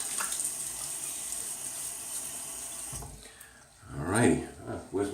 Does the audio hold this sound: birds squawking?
no